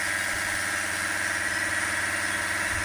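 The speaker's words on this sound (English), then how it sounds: "Get the revs up to just over 2000 RPM." A car engine holds a steady fast idle at just over 2000 RPM, the pedal pinned by a depressor during an HHO hydrogen carbon-cleaning treatment; an even, continuous mechanical drone with a faint whine, close and unchanging.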